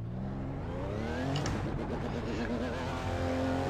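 A BMW M4 GT4 race car in the iRacing simulator idles and pulls away in first gear on the pit limiter at Sebring International Raceway, its engine droning steadily close up with rising and falling pitch.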